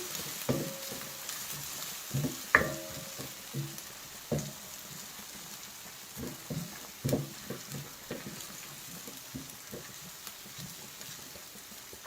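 Chopped onions and green chillies frying in oil until light brown for a village-style Bihari dal ki dulhan, a steady sizzle broken by scattered stirring scrapes and small pops, close and moderately quiet.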